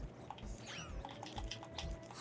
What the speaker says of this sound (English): You can hear his controllers clicking.